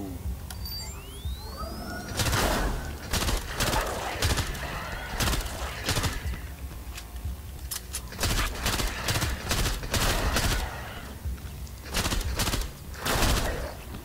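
Gunfire in the shooter STRAFE Millenium Edition crackles in loud, repeated bursts of shots across the whole stretch, with chirpy synthetic game tones in the background and no talking.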